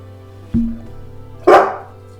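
A dog barks twice, close and loud. The first is a short sharp bark and the second is a louder, fuller one about a second later, with a faint low hum between them.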